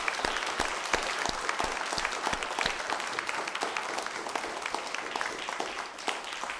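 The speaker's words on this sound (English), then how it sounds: "applause to our candidates." Audience at a non-partisan Maine Senate and House candidates forum applauds the candidates, steady dense clapping that holds loud and even for several seconds before easing slightly near the end.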